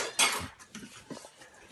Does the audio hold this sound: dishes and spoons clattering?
yes